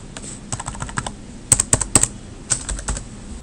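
Someone types a file name on a computer keyboard, a quick run of crisp close key clicks in uneven bursts with short pauses between them, and nothing else audible.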